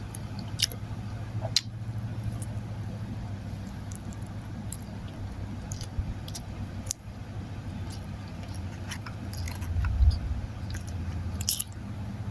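Close, moist chewing and soft biting of a Hershey's chocolate pie, with small squishy mouth sounds and occasional sharper crunch-like clicks over a low steady background hum.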